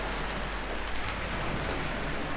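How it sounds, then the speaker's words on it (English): Small raindrops falling on the Brittany coast make a dense, even patter of rain on a surface, close and continuous, with no talking. "Can you see there's like small raindrops coming down?"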